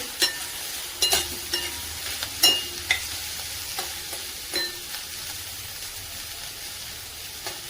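Chopped onion frying in a pan for a spicy Maharashtrian brinjal bharit made with spring onion greens, a steady soft sizzle with several light clinks and stirring scrapes scattered through, close and fairly quiet, no talking.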